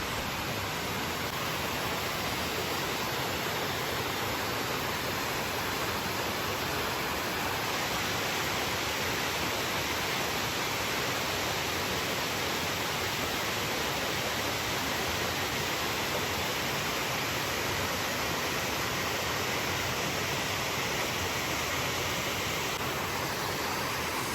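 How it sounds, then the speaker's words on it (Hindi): Waterfall in woodland near Bingley, a steady, continuous rush of falling water, even and unbroken throughout with no voices. "दूसरी साइड पे प्यारी सी वाटरफॉल है। और पानी की आवाज़ तो वैसे भी पीसफुल होती है"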